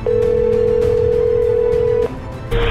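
Telephone dial tone for an emergency call, a loud steady single-pitch tone held for about two seconds, then a brief break and a short return of the tone against background noise, with no talk.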